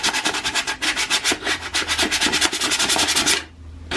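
Sandpaper of 320 grit rubbed by hand in quick back-and-forth strokes, a steady run of close, bright scratchy passes that stop abruptly near the end, with no talking.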